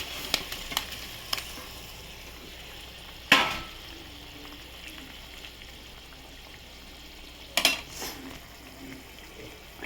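Fish frying in a pan with ground cumin, a soft steady sizzle throughout with a couple of sharp clinks of a utensil against the pan.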